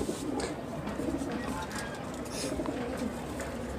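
Pigeons cooing softly and continuously in a pigeon loft, a steady low murmur with occasional wing flutters and background activity.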